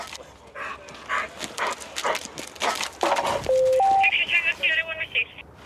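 A police dog barks during a search for a suspect near a fence and spare land. The barking comes in short bursts under overlapping voices, with electronic radio-like tones toward the end.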